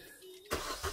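A Vauxhall Tigra 1.8 engine with a newly fitted exhaust cranks and fires, a sudden broadband burst after quiet, settling into a smooth, fairly quiet idle with a small surge near the end.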